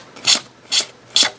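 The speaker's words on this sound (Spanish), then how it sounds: "Para eso cogéis una lima de uñas o una lija de grano fino" Nail file or fine sandpaper rasping across a cookie tin to strip old decoupage, three short, close scraping strokes with brief pauses between them.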